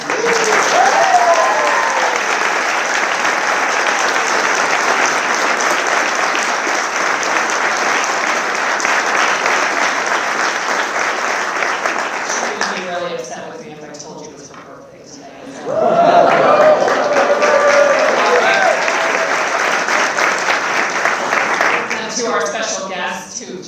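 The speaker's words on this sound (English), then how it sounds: "I would like to ask for there to be a huge round of applause for Ms. Hyde Simons" Loud, sustained applause from a large graduation ceremony audience fills most of the stretch, briefly dipping near the end before surging back, with a few cheers mixed in.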